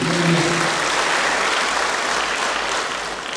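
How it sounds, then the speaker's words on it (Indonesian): Audience applause at a provincial government closing ceremony for an official retreat in NTT, Indonesia: dense, steady clapping from a large crowd, loud and close throughout, with a brief voice trace at the start. "Kita tepuk tangan dulu buat Tunan."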